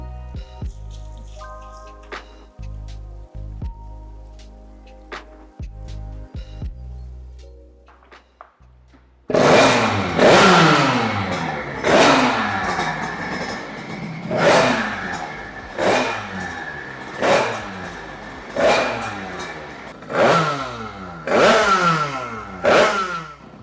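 Sherco motorcycle engine fitted with a rotor, run on a dynamometer: quiet idling and blips at first, then a loud run of repeated hard revs rising and falling in steady waves.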